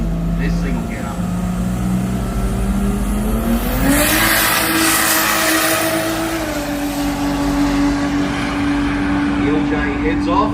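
A race car accelerates hard down a drag strip at a racing jamboree, its engine note climbing and holding a loud, steady drone at high speed while a commentator talks over it.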